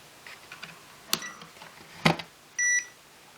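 After a few faint clicks and taps, a single steady electronic beep sounds from an FQ777-124 pocket drone's remote control, short and clear, close by.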